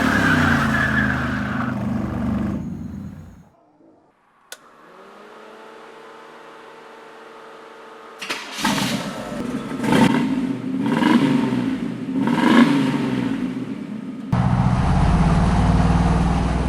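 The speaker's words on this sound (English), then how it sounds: "So let's cut to a burnout." A Grumman ice cream truck does a burnout. Loud engine roar cuts out, a quiet mechanical lull follows, then surging revs and tire-spinning bursts build before a sudden loud roar at the end.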